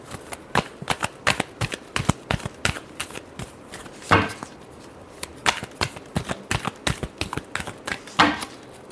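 Tarot cards shuffled by hand close up, with a quick run of sharp riffling snaps and slaps in uneven bursts and a few louder slaps of the deck, heard alone without talk.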